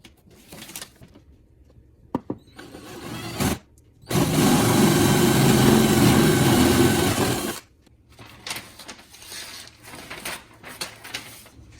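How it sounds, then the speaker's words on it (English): A power drill bores holes through the top of a kitchen cabinet for a microwave install, a loud steady whirring burst of about three seconds framed by handling clicks and taps. "So I'm going to tape that up and drill the holes that I need to drill."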